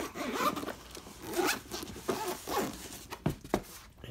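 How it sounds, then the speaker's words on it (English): A zipper is pulled closed around a carrying case for a LifePro Sonic percussion massage gun, heard up close as a series of short raspy zipping strokes with brief pauses between them. "I'll zip it up."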